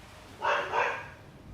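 A dog in the video game Skyrim giving a quick double bark, two short close yips in under a second against a quiet background.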